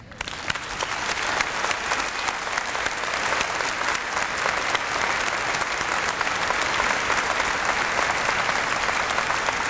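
Large convocation audience applauding the graduating class, a dense, continuous wash of clapping that starts suddenly and holds loud and steady for nearly ten seconds.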